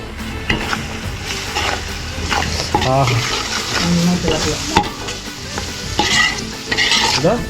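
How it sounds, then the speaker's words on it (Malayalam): Ginger garlic paste frying in a pan for a Kerala fish curry, with loud close sizzling and stirring scrapes throughout while a person talks over the cooking. "അടുത്ത നമുക്ക് ഇഞ്ചിയും വെളുത്തുള്ളി പേസ്റ്റ് ഇട്ട് കൊടുക്കാം"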